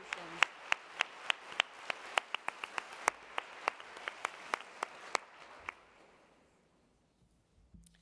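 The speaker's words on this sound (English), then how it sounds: "Please give yourselves a round of applause" Audience applause at a charity luncheon: steady, fairly sparse individual hand claps for about five seconds, moderately close, then dying away into near silence with a couple of faint claps at the end.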